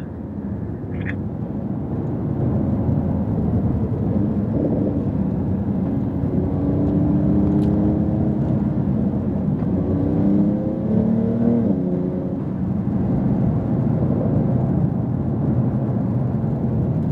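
Porsche 911 Turbo S accelerating on a race track, a loud continuous engine roar with rising gear-like tones through the middle, heard alone without talk.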